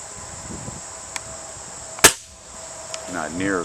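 An air rifle fires a standard pellet outdoors while squirrel hunting, giving one sharp, close crack followed by a short fade, with faint clicks before it and someone talking afterward.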